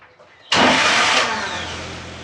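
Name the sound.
Series 1 Land Rover engine running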